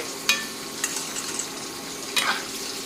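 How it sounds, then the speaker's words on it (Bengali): Curry with a half spoon of garam masala and a little sugar is stirred in a pan, with a few scraping clinks of the spoon over a soft, continuous sizzle; no one speaks. "গরম মশলার গুঁড়ো হাফ চামচ দিয়ে ভালো করে নেড়ে নেব"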